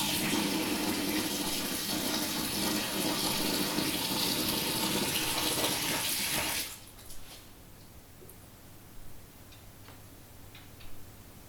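Water poured from a container to water roses, a broad splashing rush that runs steadily for several seconds, then stops abruptly, leaving a quiet room with a few faint ticks.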